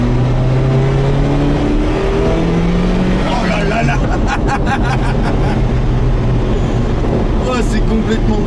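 A Ferrari F40's engine accelerates hard as its turbo comes on, a loud, rising roar that climbs in pitch with whooshing and fluttering bursts, while speech from the occupants runs over it throughout.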